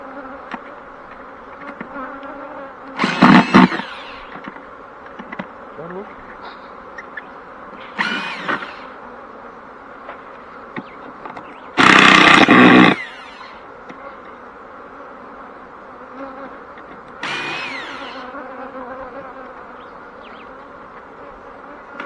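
Bees at a beekeeper's apiary in Planters Hall District hum in a steady background drone, with several loud close buzzes as individual bees fly past the microphone, no talking.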